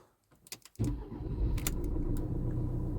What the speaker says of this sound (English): start the car again